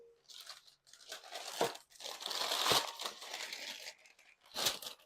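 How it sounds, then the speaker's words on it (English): Parchment paper for lining a buttered cake pan crinkles and crunches close up, in several bursts of rustling and folding with short quiet gaps between them. "you're going to take your parchment paper."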